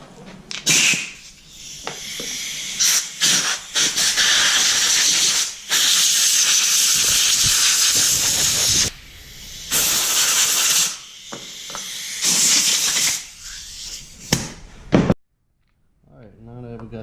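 Compressed air blasting debris off a string trimmer in long loud hissing bursts with short gaps between them, close to the listener, ending abruptly in near silence.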